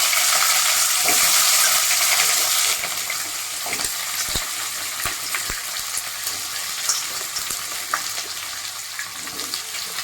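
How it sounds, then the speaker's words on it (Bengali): Mixed vegetables hit hot oil tempered with panch phoron and a bay leaf while cooking chapor ghonto, a loud continuous sizzle that eases after the first few seconds, with scattered clinks and stirring scrapes throughout. "20 থেকে 30 সেকেন্ড পর আমি সব সবজিগুলো দিয়ে দিচ্ছি"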